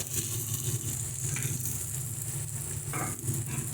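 Fried vegetables hit hot oil with spices in a pan while cooking chickpea greens, giving a steady loud sizzle with scraping stirs throughout and no speech.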